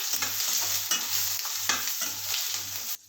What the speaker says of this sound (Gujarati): હવે આપણે આ જે ભીંડા તૈયાર કર્યા છે એને માં ઉમેરી દેવાના છે અને એને સાસળી લઈશું